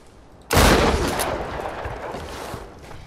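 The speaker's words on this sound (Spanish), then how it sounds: "Escopeta." A loud shotgun blast in the video game Tomb Raider, an abrupt close boom followed by a long rumbling tail and scattered echoing reports.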